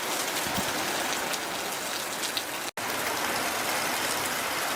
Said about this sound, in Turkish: Aniden yağan sağanak yağmur ve peşinden gelen dolu kışın habercisi gibi hava sıcaklığını düşürdü.